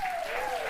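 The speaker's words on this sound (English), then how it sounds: "I love that I asked the entire audience to clap for a continent" Studio audience applause at a daytime talk show, a short burst of dense clapping from a crowd, loud and continuous.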